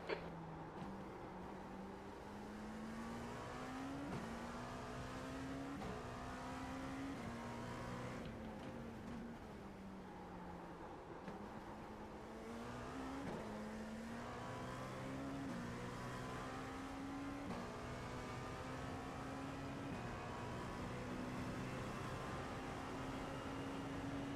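Race cars in a racing video game on the Daytona road course, with CORT GT P217 machinery: steady engine drone with rising and falling gear-change pitch sweeps, continuous and fairly loud throughout, no talking.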